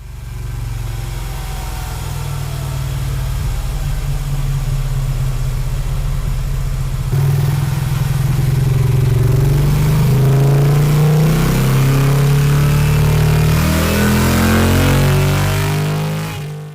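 Moto Guzzi V7 Stone motorcycle engine running close up, a steady low idle thrum that swells into repeated revving blips in the second half, loud and alone with no talk.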